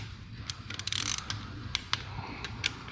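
A ratcheting torque wrench tightens bolts on a 2.5L Duratec engine being converted for an NC Miata, with quick clicking ratchet strokes, a dense burst early on, then scattered clicks, close and fairly quiet.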